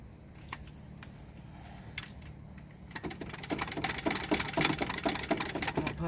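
A 1967 Mustang fastback, rebuilt from a rusty coupe, has its engine cranked by the starter, a close, rapid churning that begins after a few clicks and keeps grinding without catching, with no talk.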